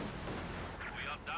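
A Katyusha rocket artillery barrage in the Company of Heroes 2 strategy game rumbles as dense, continuous booming and crackling impacts, heavy and loud throughout.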